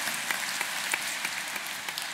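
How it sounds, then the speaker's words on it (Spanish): Audience applause at a national cybersecurity conference in Chile, a steady wash of clapping from a crowd with a few sharper individual claps standing out, moderately distant and without talk over it. "un gran aplauso"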